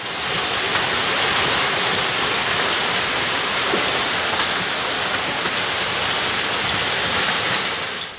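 Heavy rain with hail pours down in Havana, Cuba, a dense, steady, loud roar of downpour continuing unbroken throughout with no voices.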